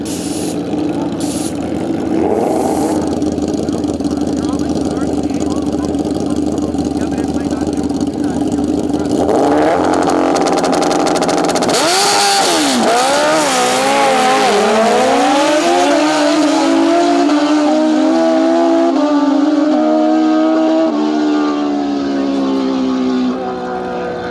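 Racing engines roar and rev close by, pitch climbing and falling as the machines accelerate away, with crowd and announcer noise mixed in.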